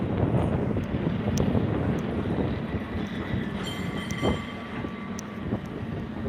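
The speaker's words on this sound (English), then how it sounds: "Cable car dedicated to Tony Bennett, who left his heart in San Francisco." A San Francisco cable car passes on the street in North Beach with a rumbling roll and rattling clicks and clacks. Gusts of wind buffet the microphone throughout.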